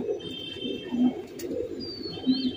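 Pigeons of fancy high-flyer breeds cooing close by, a few soft low throaty coos repeating over a faint background hum.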